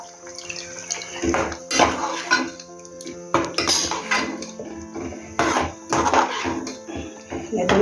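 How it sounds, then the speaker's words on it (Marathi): Water splashes and clatters as a mixer grinder jar that held ground masala is rinsed out in a home kitchen, with bursts of scraping and running water over a steady background hum. "मसाला होता ना मग ते भांडं धुवून टाकते"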